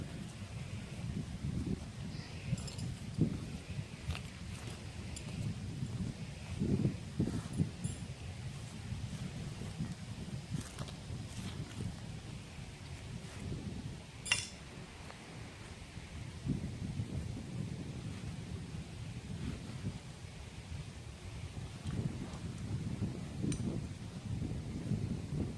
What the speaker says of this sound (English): since it's a real windy day today.